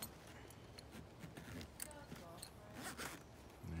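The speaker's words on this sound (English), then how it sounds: "Got the zipper, zip right up." A zipper is drawn shut along the cover of a CVT Mt. Rainier roof top tent mounted on a Toyota 4Runner, giving close, scratchy zipping strokes that run for several seconds.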